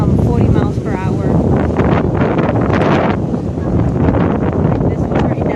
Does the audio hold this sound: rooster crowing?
no